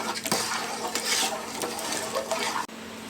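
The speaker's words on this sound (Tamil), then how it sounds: "நல்லா கொதிச்சு வந்துட்டுருக்குது" Thick sago koozh batter bubbling in a pot while a spoon stirs it steadily, with continuous scraping and gurgling close up and a brief clatter near the end.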